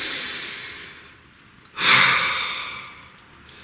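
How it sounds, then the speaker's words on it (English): A single slow, deep breath, first a long soft inhale and then a louder, airy exhale close to the microphone. "Please take a nice deep breath"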